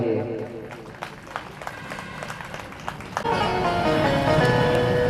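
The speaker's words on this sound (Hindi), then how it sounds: "एक बार दोनों हाथ उठा के ताली बजा करके" Audience members at a Bhagavat Katha held in a stadium clap with both hands raised, a scattered patter under a speaking voice that swells into fuller, sustained applause mixed with music toward the end.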